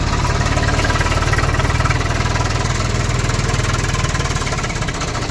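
A steady, loud Swaraj 744 FE tractor engine rumble close by, with a fast rhythmic mechanical knocking and grinding from the gearbox running through it the whole time.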